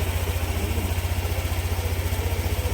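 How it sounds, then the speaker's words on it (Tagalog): Honda Click V2 scooter engine idling steadily just after being started, a close, even low putter with a regular pulsing rhythm and no talk over it. "Pagkatapos ko nga napaandar ang motor"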